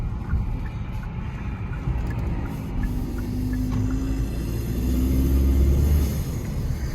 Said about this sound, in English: it's got a ton of nice turbo noise